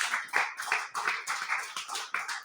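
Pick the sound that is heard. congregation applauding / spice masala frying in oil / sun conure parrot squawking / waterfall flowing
congregation applauding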